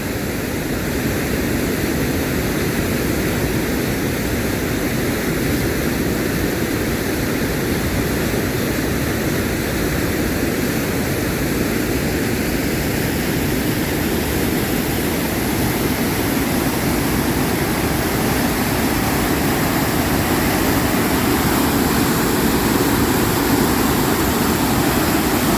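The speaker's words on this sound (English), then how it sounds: "I guess you can hear me above the roar of the water." Roaring rush of water beside Örebro Castle and its small garden, a steady, loud broadband wash that holds constant throughout.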